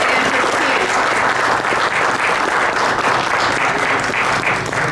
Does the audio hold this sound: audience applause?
yes